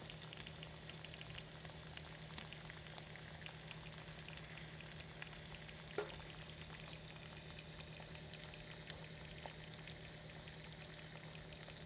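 Cheese on Japanese boxed lasagna sizzles and bubbles as it browns in a pan, a faint, continuous crackling fry with scattered tiny pops and no talk.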